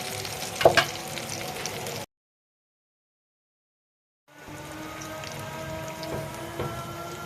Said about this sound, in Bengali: এই যে আমি বেগুন ভাজছি